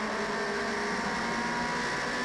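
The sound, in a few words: Toyota racing car engine downshifting at Timaru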